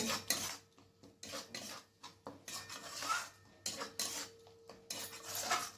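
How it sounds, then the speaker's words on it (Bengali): Tomato paste and spices being stirred in a cooking pan for chickpea dal, giving repeated scraping, clinking strokes of a utensil against metal, close and fairly loud, with no talking. "এরপর আবার ভালো করে মিশিয়ে নেব যতক্ষণ না মশলা থেকে তেল ছেড়ে বেরিয়ে না আসছে"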